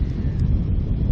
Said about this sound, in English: there's some severe wind there because the severe wind